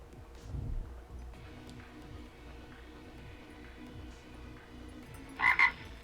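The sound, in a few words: frog croaking in a video game (Pokémon TCG Live)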